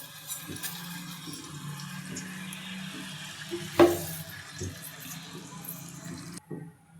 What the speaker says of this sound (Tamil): ஆயில் ஊற்றிக்கலாம்